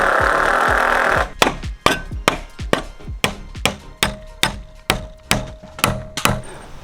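Lumber is hammered during a tiny home renovation. After a brief stretch of sawing or rasping noise come about fifteen loud, close, evenly paced hammer blows on wood, each with a sharp thunk.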